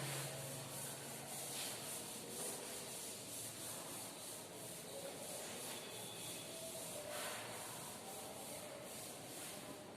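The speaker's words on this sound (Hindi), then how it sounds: "अब रब कर दें।" Writing is rubbed off a classroom board in a steady, faint, continuous swishing scrub that lasts around ten seconds, with no voices.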